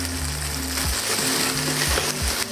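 Shrimp marinated in katakuriko sizzle and fry in a hot pan, a dense, continuous crackle with faint stirring knocks in between.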